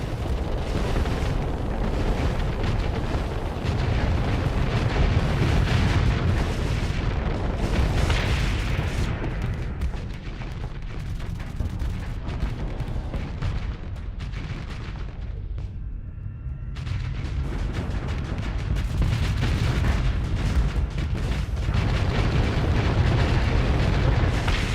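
Torpedoes in Starsector detonate as a dense, continuous barrage of loud booms and blasts, rumbling without pause and easing only briefly before surging again.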